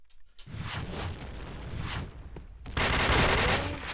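Rapid bursts of automatic gunfire in a shooter video game match, loud and close, with a short pause before a heavier final volley and no talking over it.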